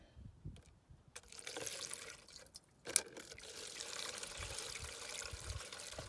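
Windshield washer fluid poured from a jug into a car's raised reservoir, a steady liquid trickle and gurgle that starts after a quiet moment, with a brief knock partway through, and keeps filling at moderate level.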